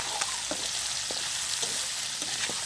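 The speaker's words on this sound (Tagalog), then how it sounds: "Kasi nagbabrown na siya, kaya tumatasik na." Pork browning in a frying pan for adobo with plenty of onion, a steady close sizzle broken by sharp spattering pops and light stirring clicks, no voices.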